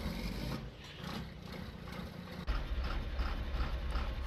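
An old tractor engine from the 1970s, likely propane repowered, idles steadily in Farming Simulator 19 with a continuous low rhythmic chugging and mechanical clatter. The idle grows slightly louder partway through.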